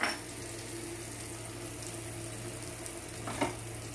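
Bread sandwich heating in homemade butter on a pan gives a steady, even sizzle that holds at one level throughout, with a soft brief clatter near the end.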